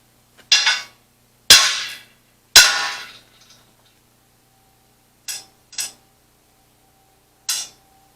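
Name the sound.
hammering metal on a Carry All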